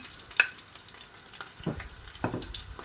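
Chopped onions going into a stew pot over medium heat, with a soft sizzle and a few stirring scrapes and clatters, one sharp knock near the start.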